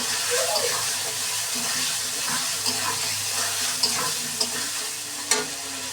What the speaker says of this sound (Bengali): দিয়ে নেড়ে চেড়ে নেবো ভালোভাবে